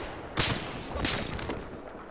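Sniper rifle fire in Battlefield 4 on the Lumpini Garden map, a few sharp distant cracks spaced about half a second apart over low background game ambience.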